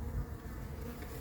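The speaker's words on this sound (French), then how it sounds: "T'as des vraies abeilles." Honeybees buzz steadily at a hive being installed on the Île Saint-Louis in Paris, a dense close swarm drone filling the short moment with no voices.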